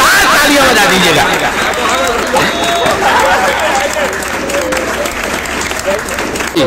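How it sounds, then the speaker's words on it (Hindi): An audience at a comic Hindi poetry gathering claps loudly and fills the room with dense, continuous applause, and crowd chatter murmurs underneath. "तो एक बार जोरदार तालियां बजा दीजिएगा।"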